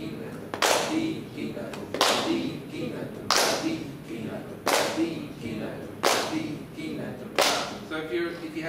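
In a solkattu masterclass, a group claps together in unison, each loud, crisp clap landing about every 1.3 seconds, while rhythmic syllables are spoken throughout.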